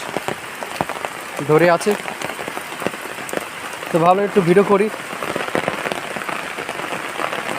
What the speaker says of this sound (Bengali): তোমাদের একটু দেখাই আমাদের এখানে কেমন বৃষ্টি।